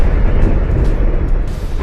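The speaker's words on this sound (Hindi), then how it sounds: "टेक्सास में 23 मार्च को एक बड़ी तेल रिफाइनरी में धमाका हुआ और फिर आग की भयानक लपटें उठने लगी" Explosion and fire at the Valero oil refinery in Port Arthur, Texas, a loud continuous roaring rumble, heavy in the low end and steady throughout, with faint crackles on top.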